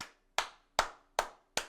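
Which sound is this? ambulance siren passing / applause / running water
applause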